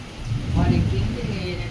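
Heavy rain falls during a night storm, a steady wash of downpour with a low rumble swelling briefly in the middle while someone speaks over it.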